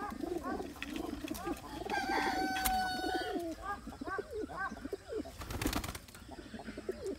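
Rampuri flying pigeons coo in repeated soft, throaty bursts close by. Wings flap and rustle now and then, and a sharp click and scuffle are heard near the end.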